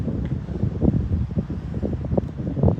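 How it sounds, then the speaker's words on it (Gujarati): Gusts of wind outdoors on a summer evening beside a school playground in New Zealand, buffeting the microphone as a low, uneven rumble that rises and falls in waves, with no talking. "જુઓ પવનની લહેરો કેવી આવે છે એકદમ."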